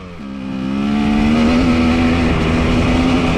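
A motorcycle fitted with a TSP head and tune pulls hard through the gears, its loud, close engine note rising steadily in pitch as it accelerates.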